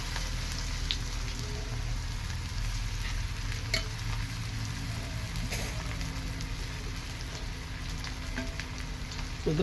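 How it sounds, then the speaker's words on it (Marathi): Batter fries in hot oil with a constant close, rain-like crackle and sizzle, dotted with sharper pops and occasional stirring clinks, steady throughout without voices. "त्यानंतर आता आपलं तेल तापलेलं आहे त्यामध्ये टाकून घ्यायचं"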